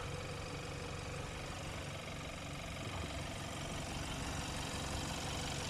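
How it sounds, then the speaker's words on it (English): A 2014 Hyundai Santa Fe engine idles with an even, continuous hum that stays steady throughout, with no other sounds. "Engine sounds smooth."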